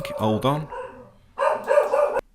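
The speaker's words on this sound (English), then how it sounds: "that's my dog barking" A dog barks a few times nearby, short sharp yips mixed in with a voice speaking briefly over them.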